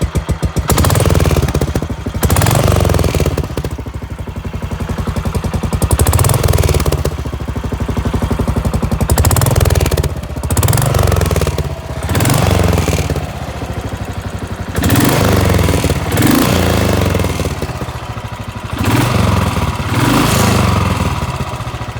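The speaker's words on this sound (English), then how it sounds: "So let's hear that exhaust real quick." A Royal Enfield motorcycle exhaust is revved repeatedly, about eight loud surging bursts rising and falling over a running idle, recorded close with no talking.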